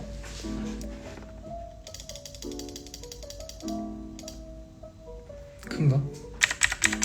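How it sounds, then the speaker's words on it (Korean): Scattered sharp mouse clicks over soft background music, a brief murmur of voice, then a quick burst of close clicks at the end. "마우스 소리가 커요?"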